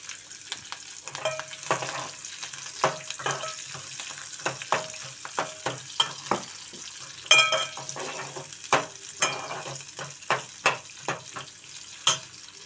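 Chopped onion and green chillies fry in a pan with a steady sizzle, broken by repeated sharp clinks and scrapes of a spatula stirring at an uneven rhythm throughout.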